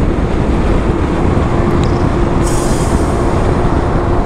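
Superlight 125 motorcycle engine in fifth gear on an intercity road during break-in, a steady loud drone with constant road and wind noise throughout, no voices.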